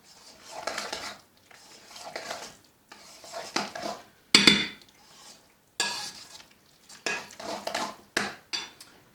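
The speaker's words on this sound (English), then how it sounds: "Stir that all up." A meat and egg mixture is stirred in a bowl with a utensil, giving repeated close scraping, clinking strokes in short bursts separated by brief pauses, with no talking.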